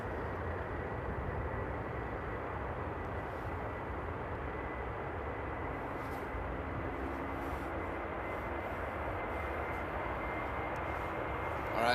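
A jet airliner taking off at Amsterdam Airport makes a continuous broad roar that holds fairly steady from a distance for the whole stretch, with no one speaking.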